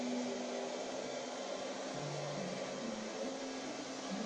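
Steady whirring motor hum of an ILIFE V50 robot vacuum running nearby in a kitchen, constant and moderately loud with slight shifts in pitch.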